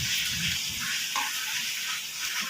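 Spice tempering for tomato pickle sizzling in hot oil, a soft, even hiss and crackle close by, fairly quiet and without talking.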